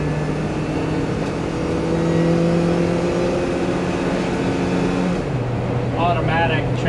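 A 4-cylinder ex-Swiss Army Mercedes G-Wagen 230GE with automatic transmission drones steadily from inside the cabin as it cruises near highway speed, its engine note shifting down partway through while a person talks over it.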